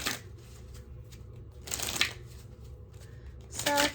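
Tarot cards shuffled by hand in a few short, riffling bursts with quiet pauses between them, close and crisp.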